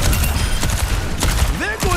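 Loud gunfire in Overwatch 2's Junkenstein's Revenge event, dense overlapping shots and impacts throughout with game sound effects and a voice briefly over the top.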